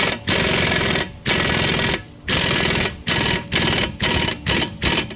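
Impact power tool driving a 24 mm socket on a bolt during CV axle installation on a 2014 Ford Explorer, loud rattling hammering bursts in a series of short runs that grow shorter and choppier toward the end.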